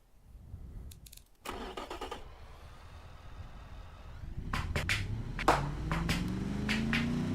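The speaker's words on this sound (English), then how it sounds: "Sounds like a V8." A V8 car engine in the Automation game cranks with a few sharp clicks, catches, then settles into a loud, close idle with brief revving bursts and no talk.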